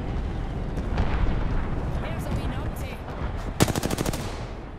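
Rapid automatic gunfire in the video game Apex Legends, a loud, evenly spaced burst of a dozen shots near the end after scattered shots and rumbling explosions, with a player talking over the fight.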